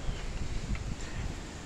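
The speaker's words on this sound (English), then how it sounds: "a little windy here today." Outdoor wind buffets the microphone in a steady, rumbling low roar with gusty swells throughout, no voices.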